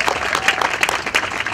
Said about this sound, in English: Let's give a round of applause for Brenda Gentry.